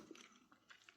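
Peppermint gum from a UK 24-hour ration pack being chewed close up, soft wet squishing and faint crunchy bites in a brief quiet burst.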